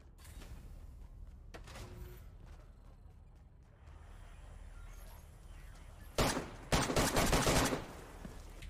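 Burst of gunfire sound effect played over a game stream, a loud rapid volley arriving late in the clip after quieter background noise, with no talking.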